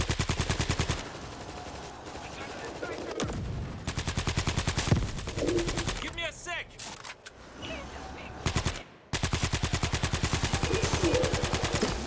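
Automatic and rapid gunfire aimed at a screamer zombie in World War Z Aftermath horde mode, loud bursts recurring through the clip with brief gaps, game effects and shrieks in between.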